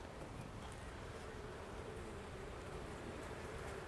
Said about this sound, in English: So a lot more bees up top than last time.